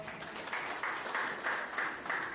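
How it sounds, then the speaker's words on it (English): An audience at a PGDM graduating-class event applauds, giving a short burst of clapping with a pulsing, rhythmic swell, heard at moderate level without speech. "Give a big round of applause."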